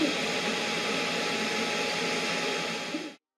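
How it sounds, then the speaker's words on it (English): Constant airy whir of the cooling fans on a Creality CR-10 Max 3D printer, including the power supply fan, a loud steady hum with faint tonal lines that holds evenly and then cuts off abruptly near the end. "it's still quite loud in the room, especially the fan inside the power supply"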